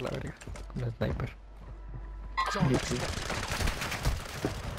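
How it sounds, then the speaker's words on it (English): Bursts of submachine-gun fire in a video game, firing from a 9mm SMG, crackle under and between loud, excited speech. "Who's shooting me?"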